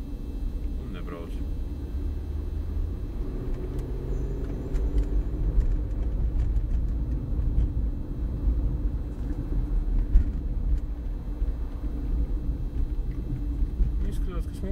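A Kamaz truck's diesel engine rumbles low and steady while driving, a constant heavy drone with slight swells and occasional light rattles, heard up close from inside the cab.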